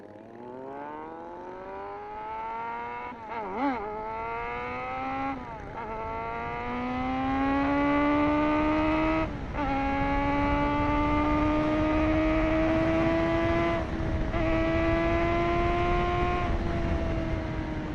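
A Kawasaki ZX6R motorcycle rides on the road, its engine revving up through the gears in a rising whine with brief dips at each shift, loud and close with steady rushing wind underneath.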